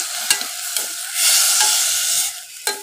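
Mixed chana and arhar dal roasts with spices in a pan on a gas stove, a short close sizzle broken by a few sharp scraping stirs and knocks, with no voices.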